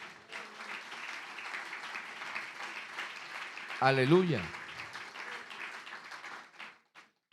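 Church congregation applauding, a sustained wash of clapping with a voice calling out over it partway through, fading near the end.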